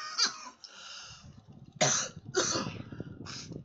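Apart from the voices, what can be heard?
coughing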